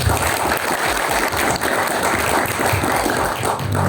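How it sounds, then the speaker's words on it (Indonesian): An audience at a Hindu Dharma youth talk in Malang applauds the speaker, a steady wash of clapping holding for several seconds at close range. "beri aplaus dulu untuk Pak Du"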